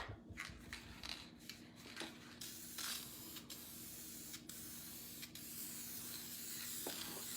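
A spray paint can hisses close by in a string of short bursts, ending in longer, steady spraying.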